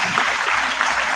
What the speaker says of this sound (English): Have a round of claps please.